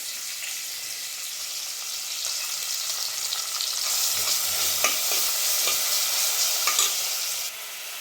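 Mutton frying with ginger garlic paste in a pan, a steady loud sizzle with scraping stirs, continuous and close with no talking.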